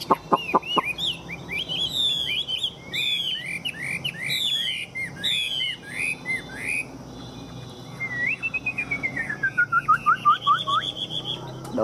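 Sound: Chinese hwamei songbird singing in a cage

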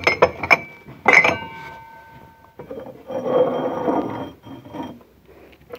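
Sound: wine glass clinking as it is handled

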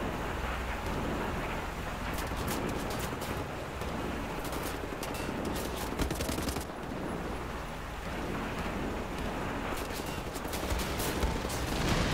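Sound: heavy gunfire in video game Wolfenstein: The New Order

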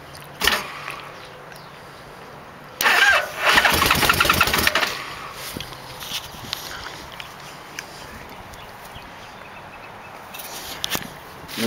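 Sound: 1989 Yamaha Vmax motorcycle engine starting

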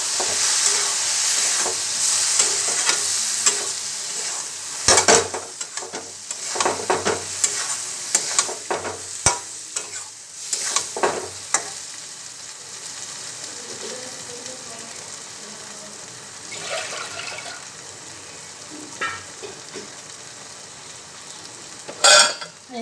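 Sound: stir-frying peas with spices for ghugni

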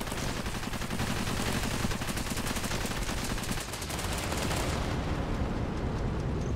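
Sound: carpet bombing explosions in Cepheus Protocol video game

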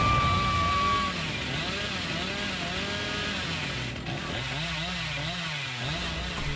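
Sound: chainsaw revving in a video game, Hillbilly killer

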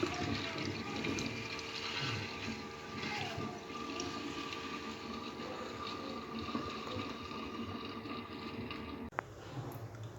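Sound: liquid drain opener poured into a clogged sink

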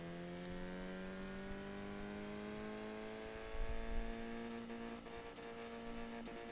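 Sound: Bugatti Veyron with Reliant engine revving, Forza Horizon 3 video game

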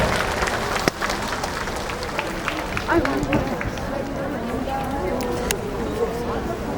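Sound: audience applause

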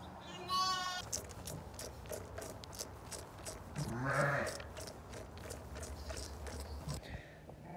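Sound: sheep bleating

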